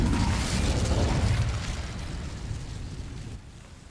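A fire spell set on dry vines in Hogwarts Legacy gives a loud whooshing burst of flame that rumbles on and slowly dies away, heard alone with no talk.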